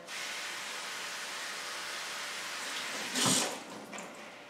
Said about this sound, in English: I'll just put some more water.